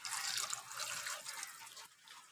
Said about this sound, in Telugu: ఇప్పుడైతే కొంచెం వాటర్ అయితే వేసుకున్నాం.